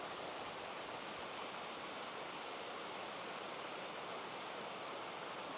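A waterfall in a natural outdoor setting, heard as a steady, even rush of falling water that is constant and fairly distant, with no voices.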